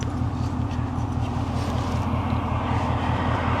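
An S650 Mustang GT with an MBRP race exhaust running close by, a loud, steady deep rumble with a pulsing low throb and no break across the few seconds.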